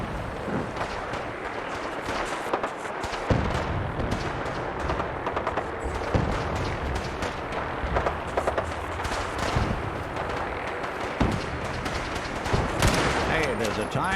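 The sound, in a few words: gunfire in a firefight in video game Fallout 4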